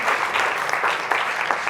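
Audience applauding for a speaker at a business talk, a dense, steady burst of clapping from a room full of people, close and loud for its short length.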